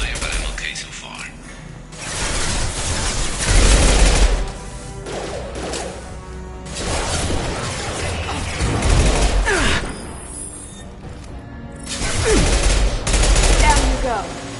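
Bursts of gunfire and fusillades from the Mass Effect 2 video game, coming in several loud waves across the clip with mechanical clatter between, while a voice talks over the shooting.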